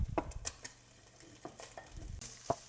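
Egg fried rice being stir-fried in a wok with a spatula: a few scraping, clattering strokes against the pan and a burst of hiss, separated by quieter pauses.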